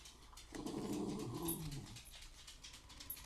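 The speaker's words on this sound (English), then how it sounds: "We're stuck here then with all these dogs." Dogs indoors growl low and rumbling for about a second and a half, shading into whimpering, heard close but fairly quiet, with no talk over them.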